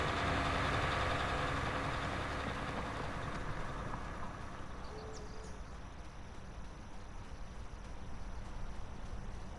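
A tractor ploughing a field in Farming Simulator 19 drones at about 7 mph, its heavy engine giving a continuous, loud, low rumble that fades only slightly over time, with no voices.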